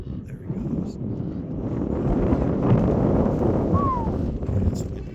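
Gusty wind buffets the microphone on a rooftop, a steady low roaring rumble that swells in the middle and stays loud throughout.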